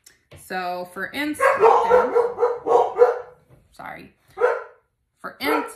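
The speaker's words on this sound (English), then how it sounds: "I apologize for the dogs in the background" Several dogs bark in the background of a home while a woman explains loop-yarn pillow making, with sharp barks early on and then speech over the top.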